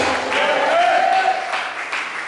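A church congregation gathered for a night of fasting and prayer applauds and cheers steadily and loudly, a dense wash of clapping with voices raised within it throughout.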